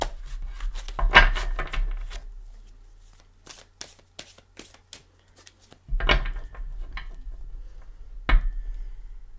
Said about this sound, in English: Give them a couple shuffles.